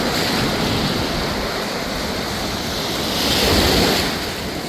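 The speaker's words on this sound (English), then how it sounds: "Right now the water flowing this way, so you can have a look. Quite a big wave" Sea waves surge and wash onto Castelldefels beach near Barcelona, a steady loud roar of surf with wind buffeting the microphone and one bigger wave swelling toward the end, no voices.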